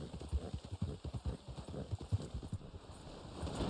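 Horse hooves clip-clopping in Red Dead Online, a steady rhythmic series of soft thuds at a walking pace, moderately quiet and unaccompanied by talk.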